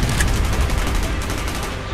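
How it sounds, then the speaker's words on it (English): Video game gunfire in Call of Duty Black Ops: rapid bursts crackle in quick succession, loud and close, like a short exchange of automatic fire. "Gunfire's drawn attention."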